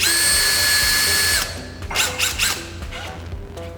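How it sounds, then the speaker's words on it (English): A power drill spins a drill bit to enlarge the seat bolt hole on a KTM 50-65 minibike. It whines loudly and steadily, then stops and gives way to a few short, rough bursts as the bit is worked in the hole. "take a nice little drill bit of the same size and just kind of turn it so it's going to go forward"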